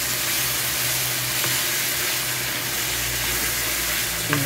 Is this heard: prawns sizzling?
yes